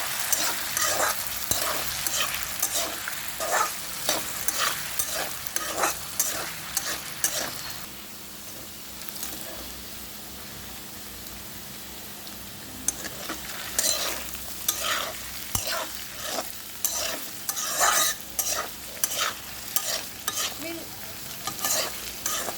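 Potatoes for a crispy fry sizzle over a high flame while a spoon scrapes and stirs them in rapid bursts, a quieter stretch of steady frying in the middle, no speech.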